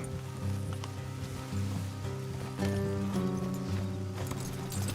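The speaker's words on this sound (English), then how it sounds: "Let's leave the horses here and go the rest on foot." Steady clip-clop of horse hooves trotting along in the video game Red Dead Redemption 2, with a low droning background tone and faint rustling, no voices.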